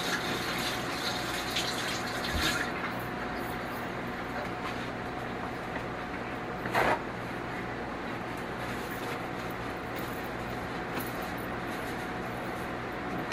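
Water runs steadily from a kitchen tap as a hand is washed while cooking chili in an electric skillet, a continuous broadband wash with a brief splash midway and no talk.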